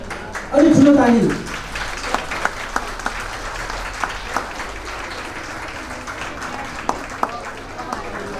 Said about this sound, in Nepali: अलि ठुलो ताली।